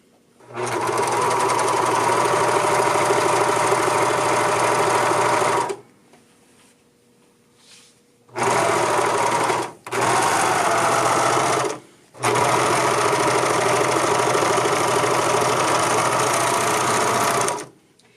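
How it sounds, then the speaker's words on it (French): Overlocker (serger) finishing the seams of a jersey dolman sweater: loud, close, steady machine whirring in three long runs separated by short quiet pauses, with no talk. "je vais venir faire la finition à la surjeteuse"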